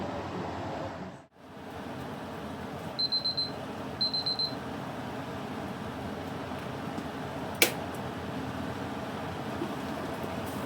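Two quick bursts of high electronic beeping, like a kitchen timer going off, sound faintly over a steady background hiss.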